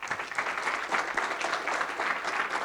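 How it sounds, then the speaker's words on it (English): A conference audience applauds a keynote speaker, a steady, even wash of many hands clapping at moderate loudness throughout. "So give him a warm and loud applause."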